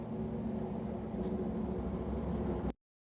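Cars driving in the background of a voiceover recording about endurance racing, heard as a steady low traffic rumble with a distant engine drone that cuts off abruptly into silence.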